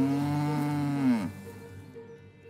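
A cow gives a single loud, close moo with a strong harmonic tone that slides downward and cuts off after about a second, followed by quiet background.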